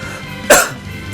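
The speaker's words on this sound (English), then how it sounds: "Yes, I still have a cough." A single short, sharp human cough rises abruptly in the middle of a quiet background, close and loud, then fades quickly.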